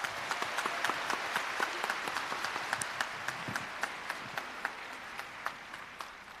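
Concert audience at a book concert applauding steadily in a full, continuous wash of many hands, with sharper individual claps standing out near the front throughout.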